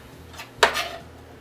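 A single sharp clatter as red pepper is dropped into a pan of ground beef and onion, a brief scrape and sizzle following, close and fairly loud.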